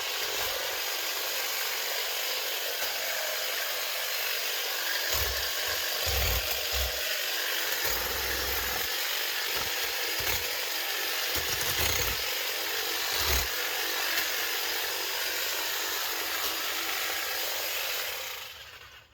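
Ryobi 18 volt cordless hedge trimmer cutting through cherry tree limbs outdoors, a steady continuous buzzing motor with bursts of heavier chopping as branches are cut, loud and close throughout.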